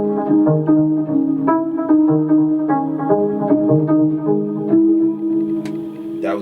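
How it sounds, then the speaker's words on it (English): Little bell-like synth tone from Omnisphere, heavily EQ'd, playing a bright, repeating melodic pattern of chiming notes, loud and alone with no talking. "Then we came with the next sound, which was just like a little bell or something."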